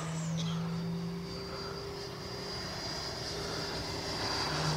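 A Freewing F9F Cougar RC jet passes by with a steady, moderate whine and engine hum that holds through the flyby, with a faint, slowly shifting tone and no talk.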